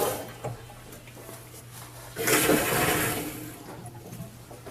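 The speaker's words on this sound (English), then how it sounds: "I just turned on the water." Water starting to run through a newly installed Noritz tankless water heater: a low, steady background hiss swells into a louder rushing surge partway through, then eases back down.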